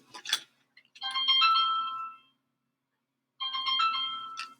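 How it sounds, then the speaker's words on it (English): Mobile phone ringtone ringing in two loud melodic bursts separated by a silent pause, with a few short clicks just before the first burst. "my phone's ringing"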